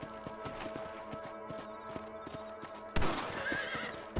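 Horse hooves clop in a steady rhythm in the video game Red Dead Redemption, then a loud, close whinny breaks out near the end.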